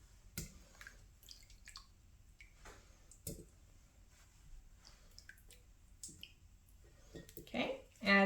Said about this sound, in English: Then I'm going to put some asparagus in.